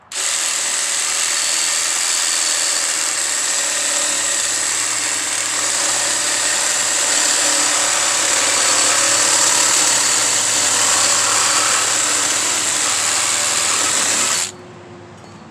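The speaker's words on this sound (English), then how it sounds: "I thought this would be a good opportunity to test out the Sawzall." A Dewalt 12V cordless reciprocating saw runs steadily as it cuts, a loud continuous buzzing whine lasting about fourteen seconds before it stops abruptly, with no talking over it.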